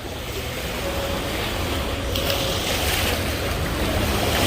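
Waves wash steadily onto Tsilivi beach at night, a continuous broadband surf roar with light wind noise, moderately loud and close, with no voices.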